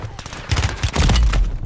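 Automatic weapon fire in Call of Duty, a short, loud rattling burst of rapid shots, with a voice briefly mixed in.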